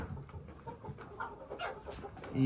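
A flock of A-grade desi hens, Rhode Island Red and Black Australorp, cluck softly and continuously at a poultry farm, with faint scattered calls over a low background murmur.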